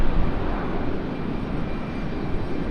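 A C-17 military transport jet flies near Raleigh-Durham International Airport, a steady broadband engine roar that holds evenly throughout at moderate distance, with no voices.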